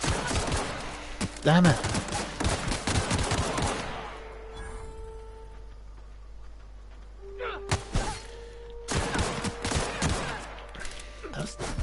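Rapid gunfire in The Outer Worlds: dense bursts of sharp, loud shots at the start, a lull with a humming tone, then another short flurry of shots near the end, with a voice exclaiming in between.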